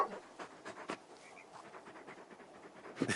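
Torgal, the large dog from Final Fantasy XVI, pants softly in quick, irregular breaths, close but faint, with light scuffing sounds and no talk.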